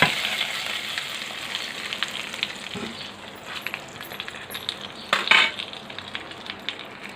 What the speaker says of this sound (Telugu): ఈ విధంగా తాలింపు పప్పులో వేసుకుందాం ఫ్రెండ్స్.